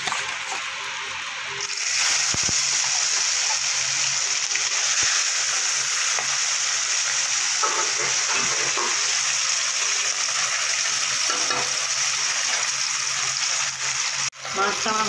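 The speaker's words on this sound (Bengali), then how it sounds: "বাকি মাছ দুটো ভেজে নেব" Bhetki fish frying in oil in a pan, a loud continuous close-up sizzle with light stirring and crackle, steady throughout with a brief dip near the end.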